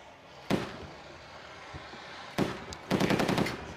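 Tank machine gun firing at a low-flying helicopter target during a tank biathlon at the Army Games: a single sharp report, a gap, then a loud short burst and a rapid string of shots over faint outdoor background.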